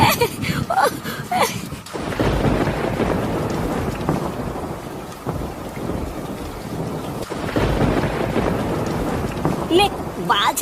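Rain begins to fall during an outdoor thunderstorm, a dense continuous hiss with low rumble and wind buffeting against the microphone.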